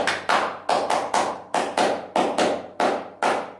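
Rhythmic 'tepuk HW' clapping pattern from Pramuka scout training, with eight sharp claps in a steady, slightly uneven beat, each with a brief decay, loud and close with no voices.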